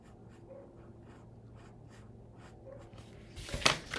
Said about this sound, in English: If I were to just kind of sketch out a couple of options here